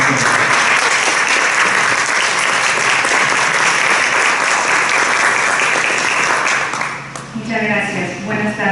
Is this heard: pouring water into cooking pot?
no